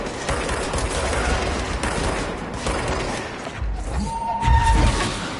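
Gunfire in the video game Control, a dense, continuous rattle of rapid shots and impacts with a heavy thudding burst near the end, loud and close.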